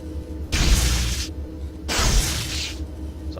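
Two loud, sharp blasts from an unsilenced weapon in Deus Ex: Invisible War, each crackling burst lasting close to a second and separated by a brief pause, with no one talking.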